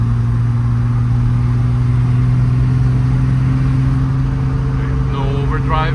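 Triumph TR6 sports car driving with its tachometer cable disconnected and ignition timing set at 4 degrees before top dead center, a steady droning engine hum under road noise inside the cabin, with a faint voice late on.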